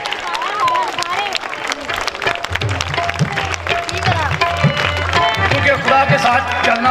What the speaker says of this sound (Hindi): मैं चाहूंगा कि आप इनके लिए खड़े होकर तालियां बजाएं